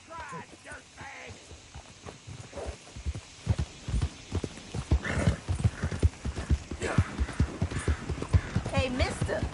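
In a Western-style video game, a horse's hooves clip-clop in a steady, quickening rhythm close by, with an occasional whinny and a low hum beneath, while voices talk intermittently over the hoofbeats.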